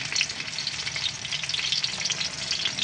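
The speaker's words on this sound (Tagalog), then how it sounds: "Ang una ko pong ginagawa, ipiprito ko po muna ang saging." Banana pieces frying in oil in a pan while cooking pork pochero, a dense even sizzle with light stirring, close and steady throughout, no talking.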